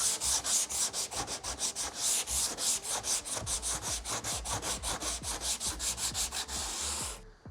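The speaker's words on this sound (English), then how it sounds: "Okay, so the panel's all sanded down now." Hand sanding on a Fiat 126 body panel, a steady rhythmic back-and-forth rasp of abrasive paper repeating in even strokes, close and continuous before stopping abruptly at the end.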